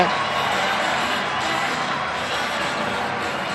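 Hockey arena crowd roaring steadily during a fight between goaltenders Jeff Deslauriers and John Gibson, a loud, continuous wash of cheering that holds for several seconds, with a commentator's voice mixed in.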